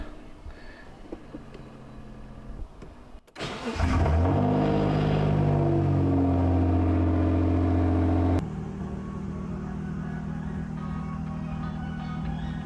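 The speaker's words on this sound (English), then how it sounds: "Let's get the GTO started. I'll let it idle until it gets up to normal operating temp." A twin-turbo Mitsubishi GTO engine cranks and catches after a quiet stretch, flaring loud for several seconds, then dropping to a steady, lower idle drone, with no talk.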